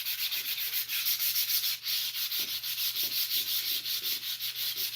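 A guitar neck is sanded by hand with sandpaper in quick, regular back-and-forth strokes, a bright rasping scrape repeating steadily at close range with no talking.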